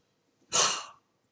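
A single deep breath taken during a brocade qigong exercise, a close, airy rush lasting about half a second in an otherwise quiet room.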